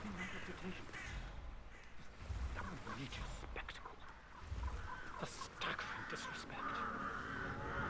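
Crows caw in Hitman 3's Dartmoor graveyard, harsh repeated calls rising over a steady game ambience while a voice talks quietly underneath.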